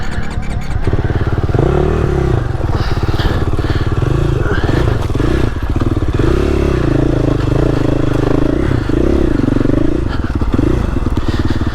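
A 2021 GasGas EX-450F four-stroke dirt bike engine runs loud and close throughout, rising and falling with uneven revving, throttle blips and rough low-speed chugging, with scraping and clatter underneath.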